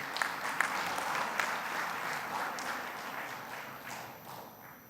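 Applause from the audience at an innovation award ceremony in Mauritius, steady and moderately loud, with a few sharper claps standing out at the start before it tapers slightly toward the end.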